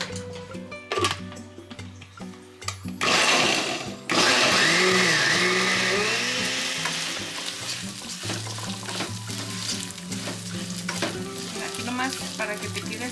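Potato tortas with vegetables sizzle in hot oil in a pan, a loud continuous frying hiss that swells partway through and stays dense and close, with a faint ticking of utensils and no talk.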